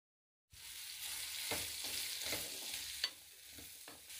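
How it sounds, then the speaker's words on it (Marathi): Cumin, mustard seeds, spices and raw mango pieces frying in hot oil, a steady close sizzle that starts suddenly, with soft stirring scrapes and a few pops throughout. "हे सगळे जिन्नस तेलात चांगले परतून झाले की त्यात कैरीच्या फोडी ॲड करायच्या आहेत."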